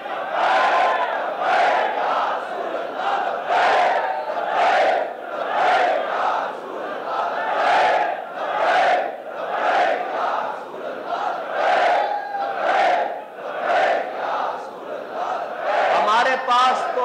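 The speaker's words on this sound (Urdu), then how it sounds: "حضور کا ذکر ہو تو ہم نعرہ وہ بلند کرتے ہیں کہ لبیک" A large crowd chants a religious slogan, "Labbaik", in loud, rhythmic bursts, voices rising and falling together in a repeated call across the whole stretch.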